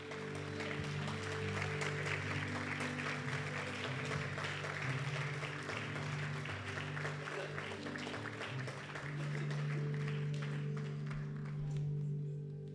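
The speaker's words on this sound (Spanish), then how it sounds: "Denle una ofrenda de palmas al Señor." Congregation applause at a church service: sustained, dense clapping from many people throughout, over steady held musical tones.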